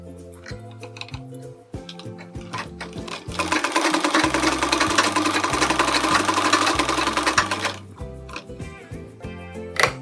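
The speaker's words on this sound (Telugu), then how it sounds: "ఇలాగా 1/2 ఇంచ్ ఈ రకంగా ఉండేటట్టు మనం స్టిచ్ చేసుకోవాలన్నమాట" A sewing machine stitches around a sleeve design, with short intermittent runs and one sustained burst of fast, close whirring lasting several seconds.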